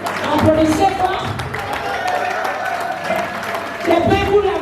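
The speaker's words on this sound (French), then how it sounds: "Applaudissez fort." An audience at a civil wedding applauds loudly in sustained clapping that swells and continues, with voices talking over it.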